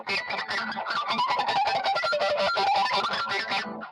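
Loud distorted electric guitar with squealing pinch harmonics bending over a busy, continuous riff, steady and close.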